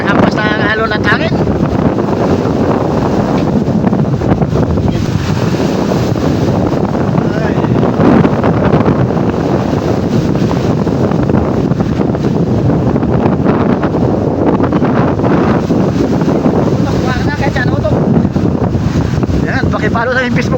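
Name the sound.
strong wind and waves pounding a boat at sea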